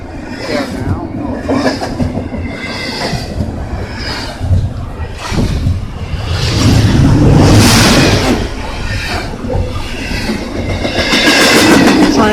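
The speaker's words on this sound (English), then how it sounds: "Train from the other direction" A Norfolk Southern container train passes close on jointed rail, loud rumbling rolling noise with rhythmic clickety-clack of wheels over joints and occasional squeals, swelling toward the end.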